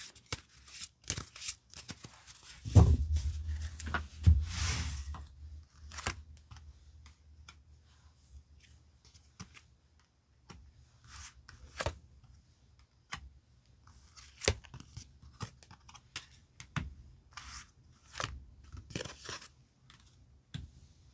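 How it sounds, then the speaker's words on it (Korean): Tarot cards being shuffled and drawn one by one, a soft fluttering riffle early on followed by scattered quiet flicks and taps of cards being picked, faint and close in an otherwise quiet room. "카드 5장 선택해 볼게요"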